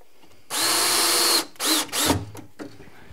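Power drill driving a screw while Rockler CenterLine drawer slides are installed, a loud close whine in three bursts, one long then two shorter pulses, ending with small clicks.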